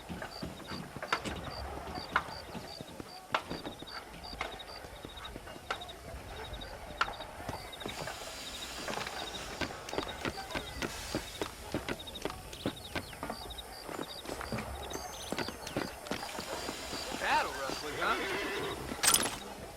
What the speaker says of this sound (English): Do you see those horses to the left by the building across the street?